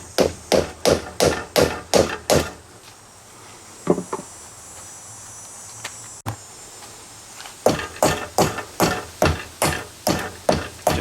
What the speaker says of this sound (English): get a little rubber hammer here and try to get her started straighter